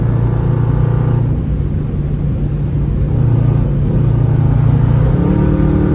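A 2021 Dodge Durango R/T with straight-pipe exhaust and an 8-speed automatic driving at night, its loud low engine drone heard from inside the cabin, steady and then climbing in pitch near the end as it speeds up.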